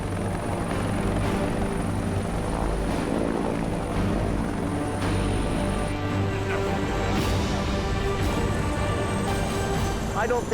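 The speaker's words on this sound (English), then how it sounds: "Here comes the chopper." An air ambulance helicopter approaches to land on a highway blocked by a jackknifed semi, its rotor thrum loud and steady throughout, with people talking beneath it.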